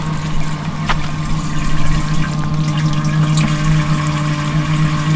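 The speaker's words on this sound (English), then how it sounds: "So as soon as you switch it on, it starts running, and switch it off, it stops." Steady water running from a Kampa Geyser portable hot water shower, an off-grid instant heater, a constant close hiss with a low pump hum underneath, continuous throughout with no talk.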